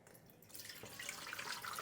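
Water from a measuring cup pours into a bread machine pan, starting faintly and then swelling into a soft, bubbling splash that runs continuously for about a second, quiet and close, with no talking.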